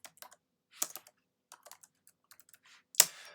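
Irregular bursts of keystrokes clatter on a computer keyboard, with short pauses between them and one sharper clack near the end.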